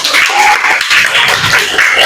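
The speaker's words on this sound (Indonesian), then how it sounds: "tepuk tangan untuk kelompok 2" A classroom group receives a burst of dense, continuous applause from many hands, loud and steady for about two seconds with no talking over it.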